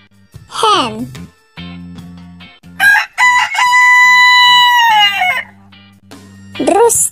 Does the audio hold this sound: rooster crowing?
yes